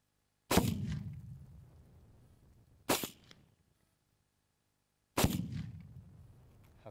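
Three loud, sharp rifle shots ring out outdoors at a Tannerite explosive target, widely spaced, each cracking hard and trailing off in a long low rumbling echo, with silence between them.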